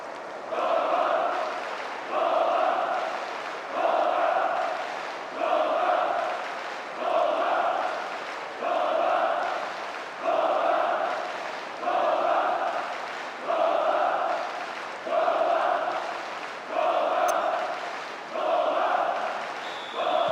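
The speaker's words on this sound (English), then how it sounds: "The crowd starting to get impatient now." Football crowd in the PES 2010 video game, a steady rhythmic chant swelling and fading in regular waves about every two seconds, distant and even, with no commentary over it.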